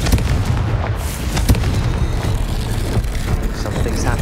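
A fiery explosion from the Confringo spell in Hogwarts Legacy, a loud, dense rumbling blast with crackling bursts that sustains through a roar of game noise.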